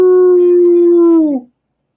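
A dog at a campground howls with its nose pointed up, one long sustained tonal howl that holds steady and then bends down and fades out, loud and close with no talking.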